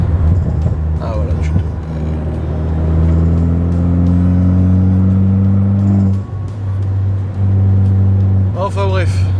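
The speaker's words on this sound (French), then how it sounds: "Toujours plaisante à conduire cette DS." A Citroën DS engine runs steadily while the car is being driven, giving a continuous low hum with a few gear-change shifts, close and fairly loud, as a voice speaks over it.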